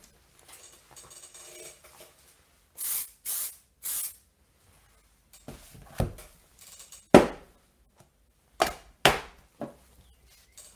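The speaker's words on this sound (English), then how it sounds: "Let's spray again the fixative so that we go for the last" Fixative spray from an aerosol can misted over a pencil drawing of a cylinder, heard as several short hissing bursts in separate sets, close and loud, with quieter handling rustles and a few knocks between them.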